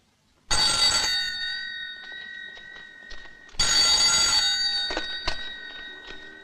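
A telephone bell rings twice in a French action film, each ring a loud, bright, metallic burst lasting a few seconds, separated by a short quieter gap.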